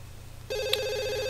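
A telephone rings in The Sims 2, one clear electronic ring tone starting abruptly after a faint background hum and holding steady.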